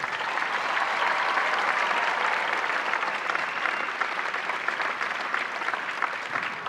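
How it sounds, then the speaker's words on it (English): A school audience applauds the 6th grade winter concert ensembles, with steady, dense clapping that fills the hall at an even, sustained level throughout and no talk over it. "One more round of applause for all the ensembles."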